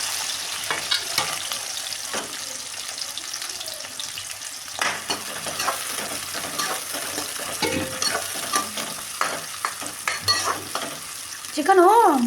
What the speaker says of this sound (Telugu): నూనె వేగింది కదా, ఉల్లిగడ్డ పచ్చిమిర్చి వేసుకుందాం.